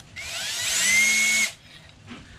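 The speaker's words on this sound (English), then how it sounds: "I drilled a hole into the brass pipe" A power drill whines steadily for over a second, its pitch rising slightly as the bit bites into a brass pipe, then stops abruptly.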